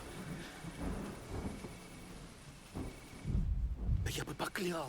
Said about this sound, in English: The mist and the rain obscuring his sight.